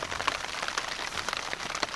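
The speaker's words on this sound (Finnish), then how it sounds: "Niin se sade yllätti retkeilijän sitten." Rain falls on a solo hiking trek through the Kaldoaivi and Finnmark wilderness, a steady, dense patter of close drops striking surfaces. It lasts the whole stretch with no voices.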